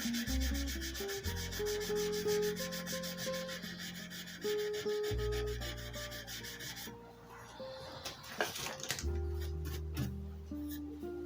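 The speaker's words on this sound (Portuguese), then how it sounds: "vou utilizar lixa até lixa 3000" Sandpaper rubbing on a metal fret of a Portuguese guitar under restoration, a steady close scratchy rasping that runs continuously and shifts in texture partway through.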